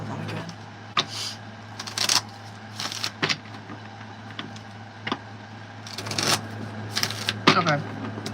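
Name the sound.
shuffling tarot cards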